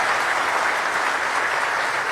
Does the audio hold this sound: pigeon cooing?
no